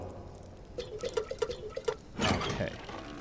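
In the video game Subsistence, a short run of quick watery splashes and drips, then a brief gush of clean water pouring, close and fairly quiet.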